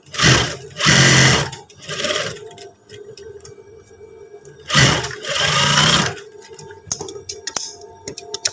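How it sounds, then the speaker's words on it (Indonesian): Sewing machine stitching along the edge of trousers, loud and close, in a few short whirring bursts with a steady low hum and scattered clicks of fabric handling between them. "Untuk pertama kita jahit bagian tepi."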